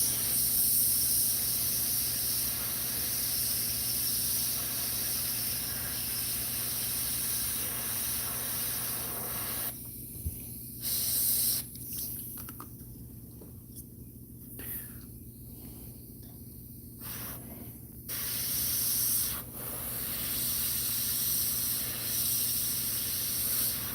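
Airbrush spraying paint with its needle guard removed, a steady close hiss that cuts out in several short pauses midway and then resumes.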